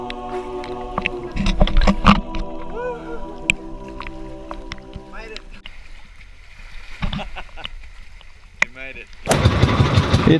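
A boat engine sputters and turns over, then catches with a loud rumbling roar near the end, amid water splashes and voices.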